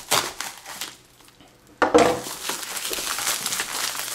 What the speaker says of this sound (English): we'll use, of course, the big old knife to open this up